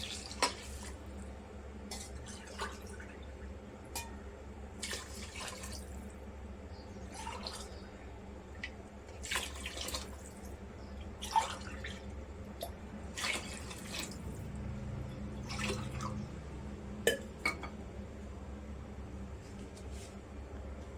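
Water is poured into a cooking pot for rice, with drips, splashes and clinks of the pot at close range over about twenty seconds of quiet kitchen sound.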